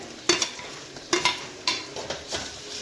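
Garlic and onion sizzle softly in a pan as a spoon stirs them, scraping in a handful of sharp strokes over a steady low frying hiss.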